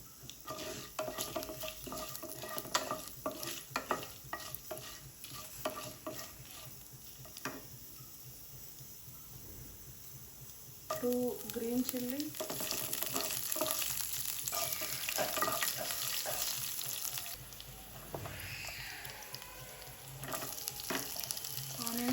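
Three dry red chillies fry in oil over a low flame for pumpkin curry, giving a steady soft sizzle with occasional stirring clinks. The sizzle swells louder midway.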